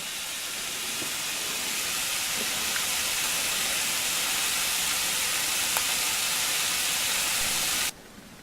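Kielbasa, sauerkraut, sweet pepper and onion sizzle in a cast iron skillet, a steady, close, even hiss that runs unbroken for several seconds before cutting off abruptly.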